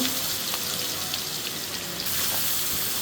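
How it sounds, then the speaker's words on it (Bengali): Steady oil sizzle and crackle of chopped onions and whole cumin frying in fish-frying oil in a pan, continuous and close, with no voices. "পেঁয়াজটা একটু ভালো করে ভেজে নেব"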